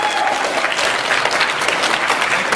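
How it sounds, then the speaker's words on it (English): Loud, dense applause from an audience at an anime convention panel, Anime Boston 2010, fills the whole moment, steady and close with no pauses. "Give that man some freaking applause."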